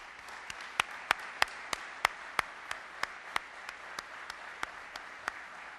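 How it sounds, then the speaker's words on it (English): Sparse clapping at an awards ceremony: roughly a dozen and a half separate, sharp hand claps at an uneven pace over a faint room hush, fading slightly toward the end, with no talking. "if we give them a round of applause."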